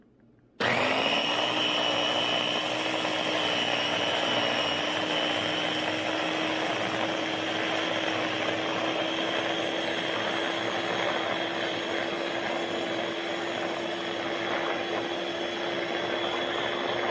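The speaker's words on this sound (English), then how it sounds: "Pushing on the blender." A blender purees cooked green beans, starting with a sudden motor whine that holds a steady, loud, high-pitched drone for the rest of the time, with no talking.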